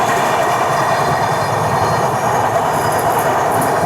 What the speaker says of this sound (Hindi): तो फाइनली ओवरटेक मिल गया हमारे ट्रेन को। Overtaking Mahakaushal express.